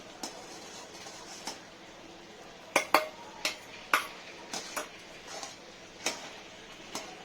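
Upma stirred in a pan on low gas, a spoon tapping and scraping the metal in soft, irregular clicks, about a dozen light knocks close by over quiet background.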